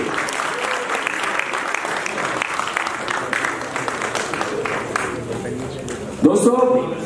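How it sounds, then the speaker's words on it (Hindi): Loud, steady applause from an audience at an award ceremony of a theater festival fills the hall, with a presenter's voice over it. Near the end the clapping thins and an amplified voice cuts in. "जोरदार तालियां सबके लिए।"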